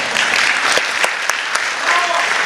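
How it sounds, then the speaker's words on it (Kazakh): Audience applause at a concert in Aktau, a dense, steady wash of clapping from a crowd that carries on throughout, with a few sharper claps standing out. "Мына шапалақ бізге ма?"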